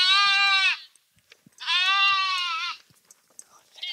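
Sheep bleating in a field where ewes stand with their lambs: two long, loud, quavering bleats close by, with a third call starting at the end and soft scattered knocks between them.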